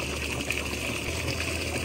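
Water runs steadily through a DIY solar pool heater with no electric pump driving it, a continuous broad gushing wash that stays even and close throughout.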